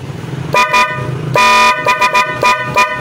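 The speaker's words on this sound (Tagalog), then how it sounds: "Ito yung kanyang sa loud horn." A PIAA dual-contact loud horn fitted to a Honda ADV 160 scooter honks in several short blasts and one longer blast, close and loud in a garage setting.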